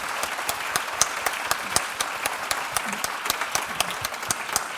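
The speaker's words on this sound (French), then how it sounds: "Un immense applaudissement pour nos deux intervenants." Sustained applause from a conference audience at an HR congress debate, dense steady clapping with sharp individual claps standing out throughout, close and fairly loud with no talk over it.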